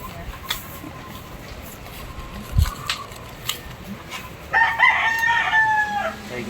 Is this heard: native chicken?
yes